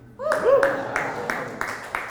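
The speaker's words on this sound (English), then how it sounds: "That was like the saddest clap." A handful of slow, sparse claps from a small stand-up comedy audience, five or six distinct hits spaced evenly, with a voice speaking briefly at the start.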